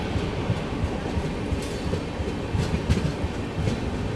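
Kamayani Express train running past on the neighbouring track near Prayagraj Junction, a steady loud rumble of wheels and carriages with rhythmic clickety-clack throughout, close by.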